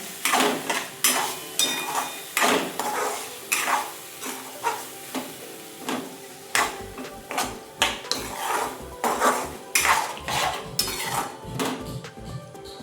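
A spoon scraping and knocking around a pan while a ground roasted peanut and garlic mix is stirred into potato bhaji, rhythmic clinks and scrapes over a soft sizzle, close and steady.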